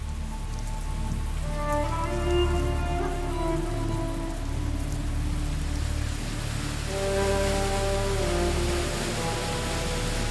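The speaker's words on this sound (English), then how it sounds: "In some areas, hundreds of inches of rain can fall during the season." Steady, dense monsoon rainfall pours down without pause in the Himalayas, a broad continuous wash of heavy rain with a low rumbling undertone throughout.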